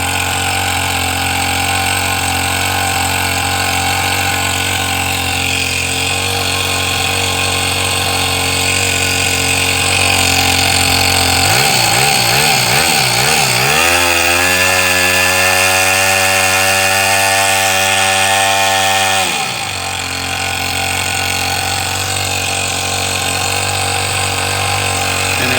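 A Toyan FS-S100 model four-stroke engine runs steadily and loud, its drone rising through a wavering start near the middle and then holding an even, buzzing pitch before dropping back, with no talk over it.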